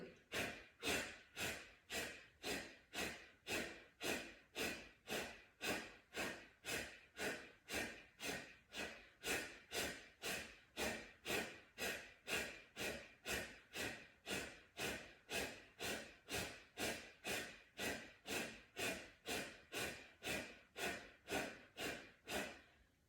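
Rhythmic, forceful exhalations repeat steadily about every half second during a morning breathing exercise, each a sharp breathy puff, close and clear with no talk over them.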